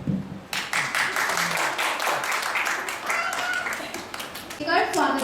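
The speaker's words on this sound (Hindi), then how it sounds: "सबसे निवेदन है कि जोरदार तालियों के साथ हमारे सभी अतिथियों का स्वागत कीजिए।" A crowd at an International Week of the Deaf event in Dehradun claps steadily after a brief pause, a dense patter of many hands, with voices and cheers mixed in near the end.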